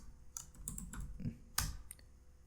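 Typing on a computer keyboard, a quiet run of scattered key clicks in a short burst with one sharper tap near the end, no speech.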